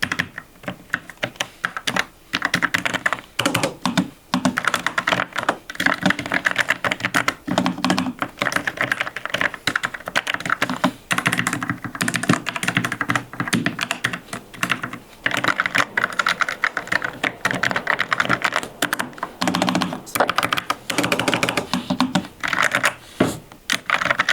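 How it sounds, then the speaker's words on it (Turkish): Rapid clicky typing on a Logitech G515 TKL mechanical keyboard with tactile switches, dense and continuous keystrokes close up, with brief pauses between bursts and no talking. "gelin bakalım klavyenin sesi nasılmış"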